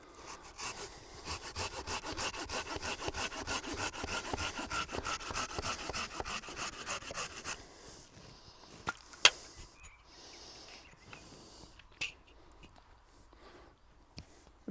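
A hand saw cutting a fruit tree branch rasps in fast, even strokes up close for several seconds, then stops, followed by scattered knocks and handling noises.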